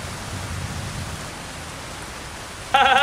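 Rain keeps falling as it begins to ease, a steady close broadband hiss with no distinct drops, until a brief louder tonal sound breaks in at the very end.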